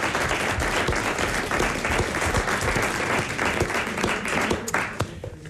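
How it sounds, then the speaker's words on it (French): A studio audience claps steadily and loudly, a dense, continuous burst of applause that holds for several seconds. "Vous l'applaudissez."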